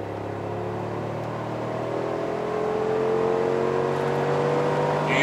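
A 2025 Mercedes G63 AMG accelerates at full throttle in Sport Plus mode, a loud, continuous engine drone and whine that swells steadily as speed builds.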